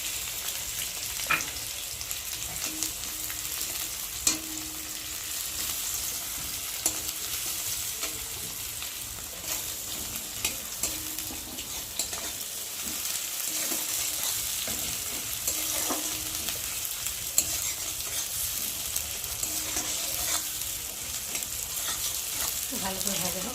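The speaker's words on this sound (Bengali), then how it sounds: "পেঁয়াজটা একটু ভালো করে ভাজা হোক।" Onions frying in hot oil in a wok for a spicy fish curry, with a steady dense sizzle and crackle that holds for the whole stretch and occasional stirring scrapes, with no talk.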